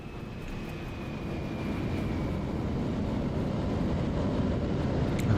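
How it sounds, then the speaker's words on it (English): A British Airways airliner departs Hong Kong in Microsoft Flight Simulator 2020, its jet engines a steady broad roar that slowly grows louder, with no talk. "British Airways on the move for the long flight to London Heathrow"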